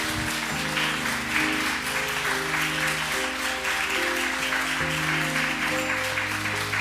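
Applause from a church congregation during an Easter Sunday morning worship service, steady clapping over sustained organ or keyboard music that runs throughout, with no talking.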